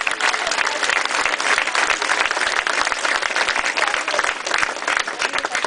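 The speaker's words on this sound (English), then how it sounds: "Give yourself a round of applause." Large crowd of campaign volunteers at a Conservative political rally clapping loudly and continuously, a dense, sustained wash of applause filling the room.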